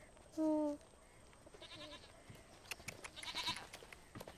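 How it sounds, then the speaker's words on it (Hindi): A goat gives a single short, clear bleat close by, followed by quiet, faint rustling and household background sounds. "ये देख बकरी ये भी मेरी"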